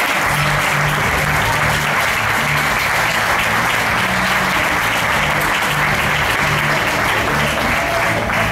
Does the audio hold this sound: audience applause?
yes